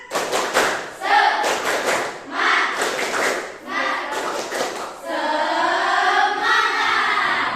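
A school classroom does a rhythmic spirit clap, bursts of group clapping in a patterned beat mixed with chanted voices, ending in a sustained sung or shouted phrase.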